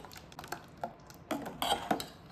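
A spoon clinks and scrapes against a bowl while stirring a raw mango ice cream mixture, giving a few irregular taps and clatters, close and fairly quiet.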